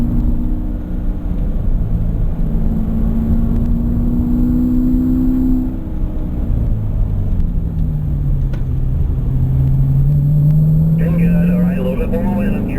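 A racing car engine roars loud and close as it accelerates on track, its pitch climbing and then dropping with a gear change into fifth, while an instructor keeps talking over it.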